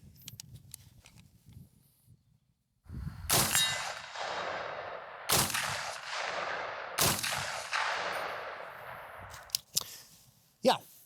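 A KAC M110-style .308 rifle fired from a bipod in three sharp, loud shots, each followed by a ringing clang off steel targets and a long decaying tail, with faint ticks before and after.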